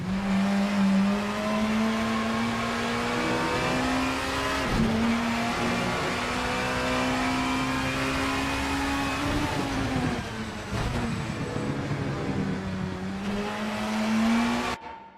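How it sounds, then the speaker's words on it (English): 90s BTCC-style Super Tourer race cars in a racing video game drone loudly at near-constant revs on a practice out lap at Autodromo Buenos Aires, with brief dips around five and eleven seconds, like gear changes or lifts. "David Constable Barry is on their practice out lap, warming up the tires."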